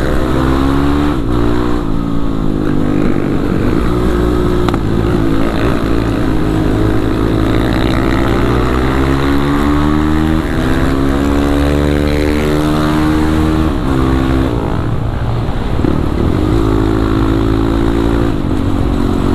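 A Kawasaki KLX 450 supermoto motorcycle engine while riding in street traffic, loud and close, its revs rising and falling continuously as the rider works the throttle, with no talk.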